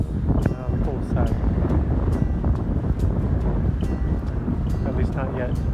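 Cold wind blowing near a chicken coop buffets the microphone in a constant low, rumbling roar, with faint higher flutters riding on top.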